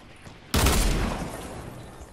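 A single loud, close shotgun blast booms out in a video game match, its roar trailing off over about a second and a half after a quiet lead-in.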